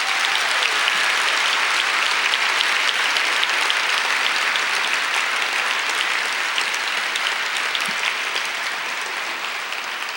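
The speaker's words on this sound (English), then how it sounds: "Please give them a round of applause." Sustained applause from the audience at a moot court competition final round, dense and even clapping filling the room for about ten seconds and tapering slightly at the end, with no voices over it.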